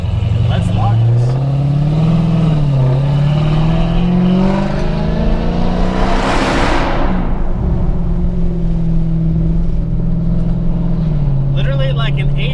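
A Dodge Hellcat with roughly 850 horsepower runs at light throttle during road tuning. The steady engine drone rises and falls gently under cabin noise, a car sweeps past midway, and someone talks over it.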